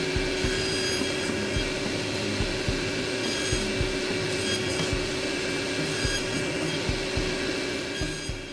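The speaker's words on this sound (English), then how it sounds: "use my mini table saw sled to cut them to length" Small table saw with a mini sled trimming 3D-printed plastic clamp barrels to length, a steady continuous motor whine with repeated cutting bursts at a regular rhythm, loud and close with no talk.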